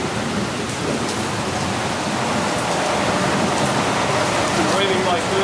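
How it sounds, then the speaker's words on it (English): Heavy rain pours steadily in Tokyo as a dense, loud, unbroken hiss of water, heard from shelter inside a building. "It's raining so much, we took shelter in a building."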